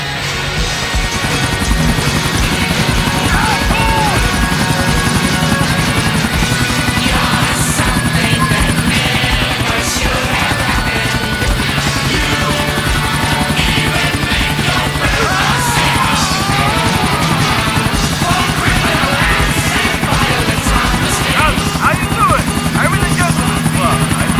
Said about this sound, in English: But I'm in the helicopter!